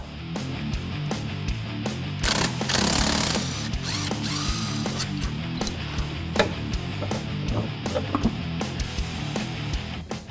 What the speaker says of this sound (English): Now we're going to move up top and remove the strut nut so we can remove the strut itself.